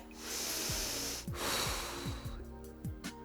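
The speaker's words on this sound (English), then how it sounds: "I'm exaggerating my breathing just so you know that I've got to breathe in to start and out to move." Exaggerated breathing during a Pilates hip-opening and glute exercise: forceful nasal inhales and snorting exhales, repeated in an uneven rhythm close to the microphone, with no talking.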